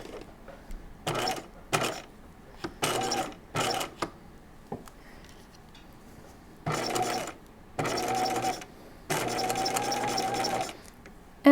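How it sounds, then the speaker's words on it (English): Sewing machine running in several separate bursts, stitching beside a zipper with a zipper foot on a halter top, each run lasting about one to two seconds with quiet pauses between and small mechanical clicks. "I need to switch my needle to the other side of the zipper foot"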